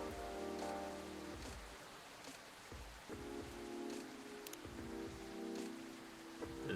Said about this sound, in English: The rain is a bit too loud